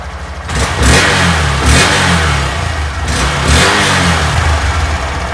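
Honda Grom motorcycle engine with an airbox mod revving hard, close and loud, with repeated throttle blips that rise and fall over a steady idle and no talking.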